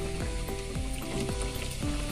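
Cumin, mustard seeds and green chillies spluttering and sizzling in hot oil in a pan, with a steady crackling fry punctuated by repeated sharp popping bursts.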